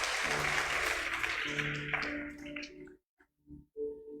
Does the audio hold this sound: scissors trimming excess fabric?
no